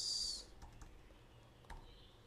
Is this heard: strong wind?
no